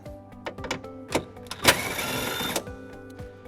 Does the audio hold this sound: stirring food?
no